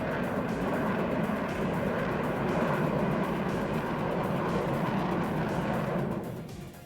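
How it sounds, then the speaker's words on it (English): F-16 fighter jets in the WARNO video game give a continuous loud jet engine roar. It holds steady for about six seconds and then fades slightly, with no talking. "These F-16s, man, he's just air spamming the crap out of me."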